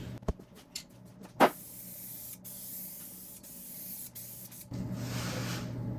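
Epoxy primer hisses from a spray gun onto a 1966 Triumph GT6 bonnet in a workshop, in short bursts followed by a longer continuous spray near the end, with a few clicks and knocks in between.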